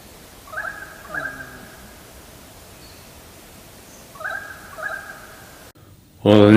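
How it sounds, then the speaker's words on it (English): A field recording made in the Brindabellas on an early morning carries a currawong's call, heard as two short bursts of calling, then a later pair of similar calls, with a louder low moaning sound at the very end. "You can hear a currawong sounding and then you hear a bit of a moan."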